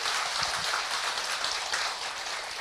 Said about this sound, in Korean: 본인에게 큰 박수 한번 보내주시기 바랍니다